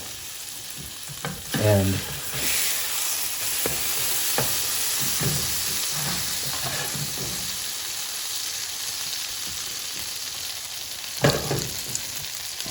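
Slices of French toast fry in butter in a hot pan, giving a steady bright sizzle throughout with occasional louder crackles and soft clinks of a utensil.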